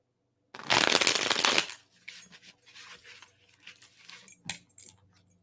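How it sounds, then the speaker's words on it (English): A deck of cards gets a quick shuffle: one loud, dense riffling burst up close, followed by softer scattered card snaps and handling clicks. "We're going to do a nice little shuffle on these real quick."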